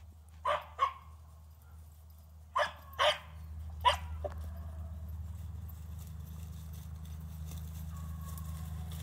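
A young hound pup barks while running a rabbit outdoors, five loud, sharp barks in the first four seconds, then a steady low rumble of wind or engine noise.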